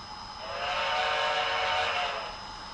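Horn of a Southern Pacific cab forward model locomotive: a single faint, thin whistle-like tone that swells and fades over a few seconds, with a light hiss underneath and no talk.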